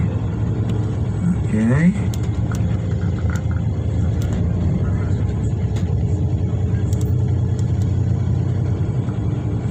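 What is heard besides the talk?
tour bus driving through city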